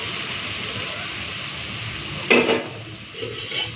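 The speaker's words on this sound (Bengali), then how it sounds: "এখন আর 5 মিনিট কষে নেবো, তারপরে মাংসটা দিয়ে ভালো করে কষতে থাকবো।" Spice paste for a mutton and potato curry sizzles and fries steadily in a pan, with a louder scraping stir near the middle and a few lighter clinks of the spoon afterward.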